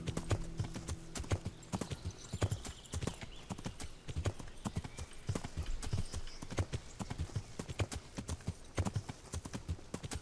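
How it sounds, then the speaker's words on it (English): Steady clip-clop of horse hooves while riding in the video game Kingdom Come Deliverance, a regular rhythmic trot of close, moderately loud hoofbeats with little else around. "Just let me ride my horse. I just want to ride my horse"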